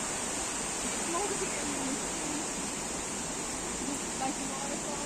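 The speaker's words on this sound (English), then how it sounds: "Like a waterfall there." Steady rushing roar of a waterfall in a large forested park, constant broadband water noise filling the scene from start to finish with no clear breaks.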